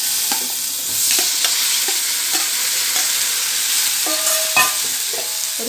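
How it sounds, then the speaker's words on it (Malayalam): Chopped ash gourd sizzles in a pan for a Kerala-style upperi, with steady frying hiss under repeated scraping stir strokes and a few metallic clinks of the utensil. "ഇതിലേക്ക് നമ്മൾ അരിഞ്ഞ് വെച്ചിരിക്കുന്ന കുമ്പളങ്ങ ഇട്ട് കൊടുക്കാം."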